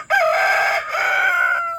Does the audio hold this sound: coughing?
no